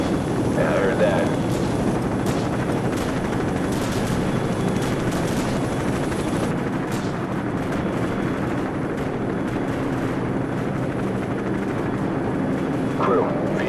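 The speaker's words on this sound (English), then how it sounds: "We're moving towards the helicopters now." A helicopter's steady rotor drone fills a Call of Duty 4: Modern Warfare scene, with bursts of distant gunfire and voices talking over it.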